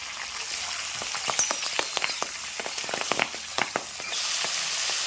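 Potatoes and green peas crackle and sizzle in hot oil in a pan, a dense run of sharp pops and spits with a steady hiss underneath, close and moderately loud.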